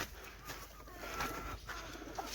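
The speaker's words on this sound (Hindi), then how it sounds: "ये हमारे मुर्गे हैं और साथ में कबूतर हैं" Pigeons and chickens at a farm coo and cluck faintly amid a steady, noisy outdoor background, with no talk.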